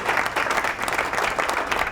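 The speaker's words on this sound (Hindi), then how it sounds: "तालियां हो जाए जी।" Studio audience applause at an Islamic quiz show during a Ramadan broadcast, a dense steady burst of clapping lasting about two seconds, close and full with no voices over it.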